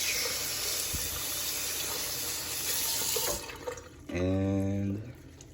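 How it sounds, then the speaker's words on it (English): Tap water runs steadily into a kitchen sink while vegetables for guacamole are rinsed under it, a continuous close splashing that thins out briefly near the end, with no talk over it. "Just rinse off all your food."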